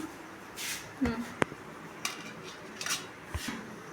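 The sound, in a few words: fried masala vada being moved onto a plate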